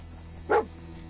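A single short bark from Dogmeat, the dog companion in the Fallout 4 video game, rings out once at moderate volume over a low, steady game background.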